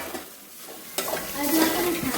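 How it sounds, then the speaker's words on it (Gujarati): Spice tempering (vaghar) fries in a pot at a home gathering. A quiet stir gives way to a sudden sharp sizzle about a second in, then a loud, crackling fry that keeps building. "જોઈ લો મિત્રો વઘાર ચાલી રહ્યો હ"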